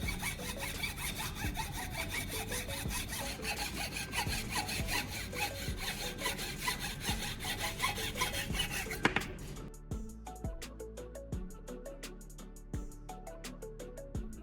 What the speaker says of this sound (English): I'll use a hacksaw to carefully cut off a small disc from the round wood